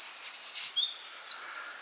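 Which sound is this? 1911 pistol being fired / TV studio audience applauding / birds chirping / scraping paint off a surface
birds chirping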